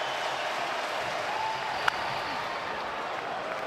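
A baseball crowd at a Cardinals vs Cubs game roars in a steady, distant wash of cheering and applause that holds throughout, with one sharp brief sound near the middle.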